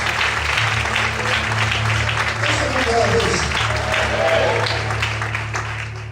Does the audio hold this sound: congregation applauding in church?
yes